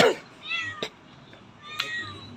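A cat meows several times, a close drawn-out call followed by shorter, higher mews, with brief clicks and light household noise between them.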